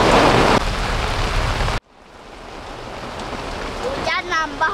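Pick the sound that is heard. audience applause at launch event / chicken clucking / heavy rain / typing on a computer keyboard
heavy rain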